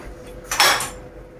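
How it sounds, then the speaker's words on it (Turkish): Fork and knife clink against a plate of potato, one short bright burst of scraping and clatter rising briefly from a quiet kitchen background. "Şöyle çatalla şekiller yapıyorum."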